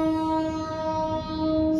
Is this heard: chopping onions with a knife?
no